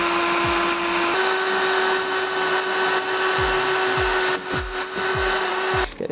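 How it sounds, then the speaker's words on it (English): A power whisk on a low setting mixes fibreglass roofing resin for a GRP flat roof, giving a steady, loud motor whine that shifts slightly in pitch, with repeated knocking thuds as the whisk strikes the tub. "get a whisk, keep it on a low setting and literally give it a whisk"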